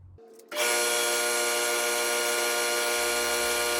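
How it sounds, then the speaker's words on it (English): An air compressor kicks on abruptly after a short quiet moment, then runs with a loud, steady motor drone and buzz close by for the rest of the clip. "the air compressor turns on right here"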